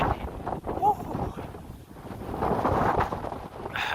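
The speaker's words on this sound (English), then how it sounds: "It's just really, really windy" Strong wind buffets outdoors near an amphitheater, roaring in uneven gusts across the microphone with broad rushing noise, and a voice is faintly mixed in.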